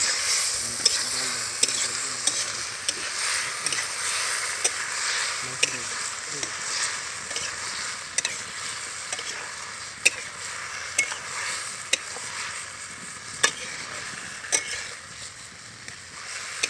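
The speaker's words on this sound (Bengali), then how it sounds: "এই যে আমরা এই যে মশলা কষাচ্ছি আলু দিয়ে" A spice paste of ginger, garlic, green chili, tomato and red chili frying with potatoes in a pan, continuous sizzling under repeated sharp spatula scrapes and taps, outdoors at a picnic.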